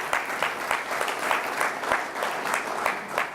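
A business school audience claps in a fairly quiet, moderately sized round of applause, with individual hand claps standing out in an uneven rhythm over several seconds.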